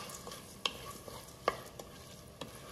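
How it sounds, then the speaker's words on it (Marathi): Moong dal frying in ghee in a pan, a soft continuous sizzle broken by several crisp spoon taps and scrapes while being stirred, close up with no talking. "तुपामध्ये खमंग असं परतून घ्यायचे ही डाळ आपल्याला।"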